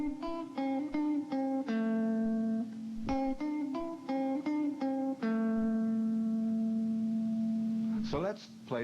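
Plucked acoustic guitar notes play a short tune, clear and close, with a steady rhythmic pattern of individual notes ending on a sustained tone, solo with no other instruments.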